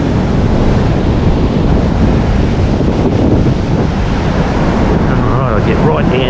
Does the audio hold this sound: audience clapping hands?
no